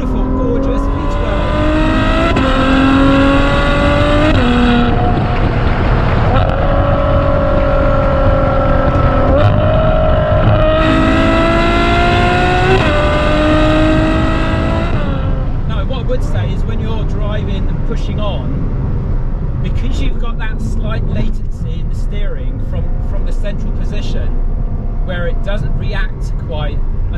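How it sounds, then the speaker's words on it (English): Loud V12 supercar engine heard from inside while driving, rising and falling through rev sweeps with a deep, layered drone and gear changes, a voice speaking over part of it. "just let you enjoy the sound of this beautiful, gorgeous V12"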